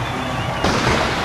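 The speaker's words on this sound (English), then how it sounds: "Wow, another explosion of fireworks." A single sharp firework blast erupts midway at a Mardi Gras parade, loud and close, cutting through a steady crowd-noise wash.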